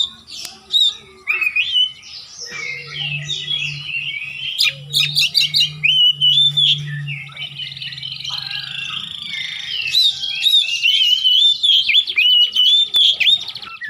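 An oriental magpie-robin (kacer) sings loudly and close, a busy stream of varied whistles, chirps and trills with short pauses, while a low croaking pulse repeats underneath for several seconds.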